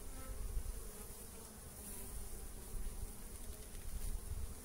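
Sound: honeybees buzzing in an opened hive

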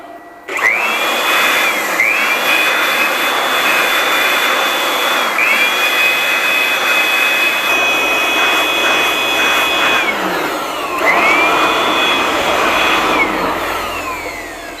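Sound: inverter charger cooling fan running

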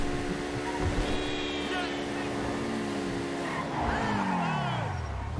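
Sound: Overflod Imorgon electric rally car driving, video game

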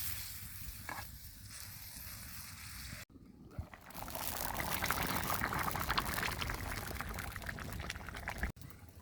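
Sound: water added, curry coming to a boil

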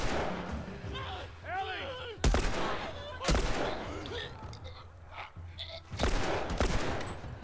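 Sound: gunfire from the video game The Last of Us Remastered

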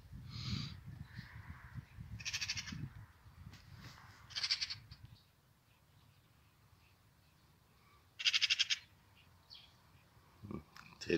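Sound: crow calling in a dog park

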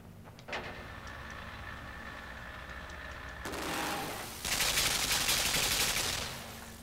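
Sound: gunfire in the video game Limbo

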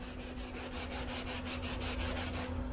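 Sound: hand sanding body filler with 120 grit sandpaper

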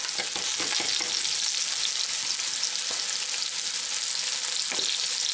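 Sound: onions sautéing in a pan

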